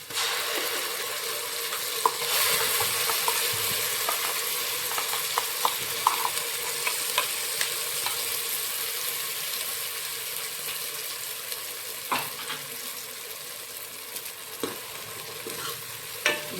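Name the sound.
ground masala with onion and cumin frying in oil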